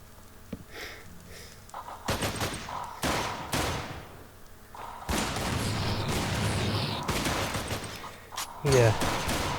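Bursts of gunfire from gun-wielding pigmen in a modded Minecraft survival game in the Nether come as loud, repeated volleys and booms broken by short gaps, with a player's voice over parts of it.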